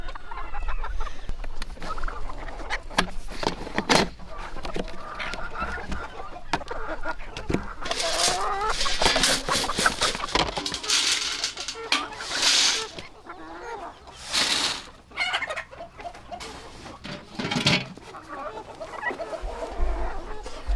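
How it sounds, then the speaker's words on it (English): A flock of chickens clucking and squawking continuously nearby, with people talking now and then under the busy bird chatter. "You can see all the chickens."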